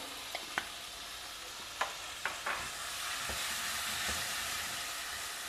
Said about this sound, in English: stir everything till the vegetables are cooked